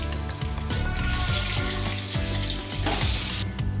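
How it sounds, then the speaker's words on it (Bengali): More Ari fish pieces crackle in hot oil, a steady close sizzle punctuated by spatula scrapes and stirring taps, with no one speaking. "আমি একইভাবেই বাকি মাছগুলো ভেজে নেব।"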